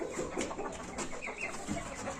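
Two hens and a rooster clucking together in a dense, continuous jumble of farmyard calls, fairly close and steady throughout.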